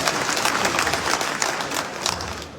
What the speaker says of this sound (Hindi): जोरदार ताली ऊपर वाले के लिए एक बार।